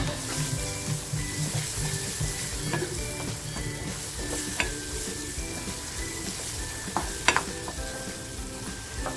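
Onion and ground spices hit hot oil for a homemade matar batata bhaji, crackling in a continuous close sizzle with stirring and occasional clinks of a spoon against the pan.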